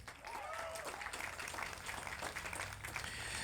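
Outdoor crowd at a domestic violence awareness walk gives a sustained round of applause, steady clapping from many hands over faint background chatter.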